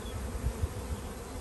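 Honeybees hum steadily in an open, heavily populated hive during a spring inspection, a low, faint, continuous drone with a few slightly louder passes near the microphone.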